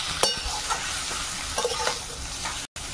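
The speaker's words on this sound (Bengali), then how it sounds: "লবণ আর হলুদ দিয়ে এখন ভালো করে ভাজতে হবে।" Food frying in a pan with salt and turmeric while being stirred, a close, steady sizzle with occasional scraping stir strokes and a brief cut near the end, no voices.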